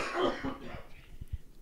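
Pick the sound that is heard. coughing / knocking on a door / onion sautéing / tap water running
coughing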